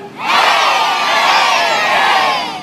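A large crowd of children at an outdoor summer festival shouts a long, loud, sustained cry together, filling the space for over two seconds before tailing off.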